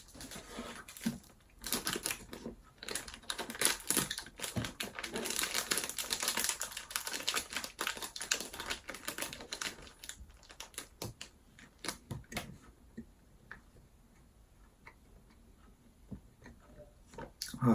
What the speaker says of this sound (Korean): 그리고 비닐 소리가 너무 많이 나서